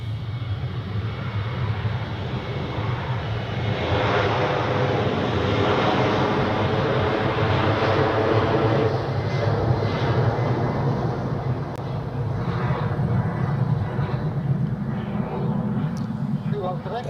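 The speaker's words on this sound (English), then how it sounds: "That was a Helvetic Embraer out to Prague." A Helvetic Airways Embraer jet departs runway 28 at Zurich Airport, its engines a steady, broad roar that swells and holds throughout, heard from a distance without voices.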